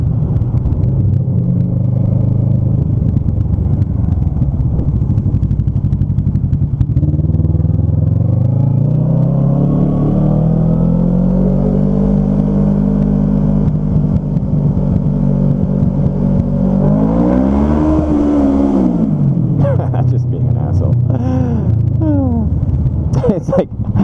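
Vehicle engine revving hard as the driver guns the gas on a mountain road, a loud close roar that rises and falls in pitch repeatedly with gear changes, with voices talking over it.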